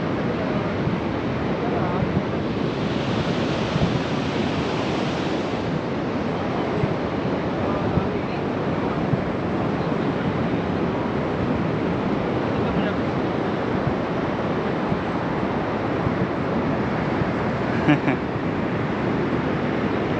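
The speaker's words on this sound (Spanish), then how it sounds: "La verdad que el sonido del mar es espectacular." Ocean surf washes steadily onto the beach at Punta del Diablo on a hot day, a continuous broadband roar with light wind buffeting the microphone and no clear breaks between waves.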